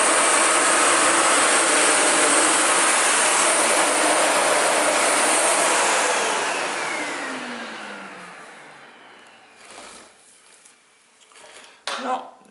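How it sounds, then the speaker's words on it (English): A Sebo Felix 9809AM vacuum cleaner runs loud and close with a steady broadband roar, its motor pitch sliding down as it powers off, followed by a few clicks and handling noises. "Let's vacuum the rest of that up."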